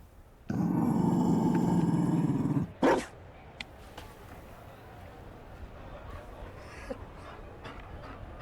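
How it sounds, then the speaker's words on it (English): A Mabari war dog growls and barks in Dragon Age: Inquisition, a loud sustained snarl lasting about two seconds, then a short sharp bark, followed by quieter game ambience with a few faint clicks. "You found a dog. They don't breed Mabari in Olay."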